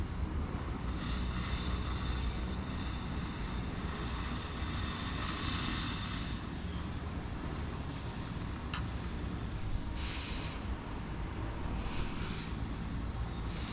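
A steady, loud whirring motor drone fills the whole stretch without a break, consistent with a camera drone lifting off for an aerial shot, with no voices heard.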